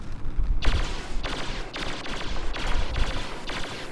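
Blaster fire in a Star Wars video game, loud rapid bursts of shots repeating about every half second, close and dominant with no talk over them.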